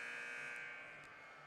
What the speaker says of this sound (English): We just heard a buzzer there.